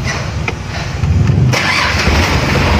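Vehicle engine cranking and then catching after repair of its engine stop motor: a short, loud, close start that settles into a steady idle, with no talk.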